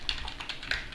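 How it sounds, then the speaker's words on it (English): Fast typing on a computer keyboard, a short burst of about six close, crisp key taps in quick succession. "So then what I do is I type podman"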